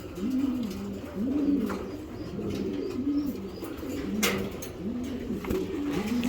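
Racing homing pigeons in a loft coo repeatedly, several overlapping rolling calls in a steady rhythm, close and prominent over a faint background hum, with no talking.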